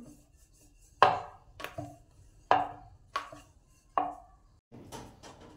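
A rolling pin works dough for khava poli on a board with sharp, spaced knocks and soft rubbing, five or six distinct thumps in a quiet kitchen.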